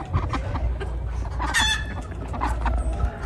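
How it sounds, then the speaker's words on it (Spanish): A hen on a farm clucking after laying an egg, with busy overlapping fowl calls and clucks and what may be a rooster crowing faintly in the mix. "allá está una gallinita que ya puso su huevito y salió a las carreras"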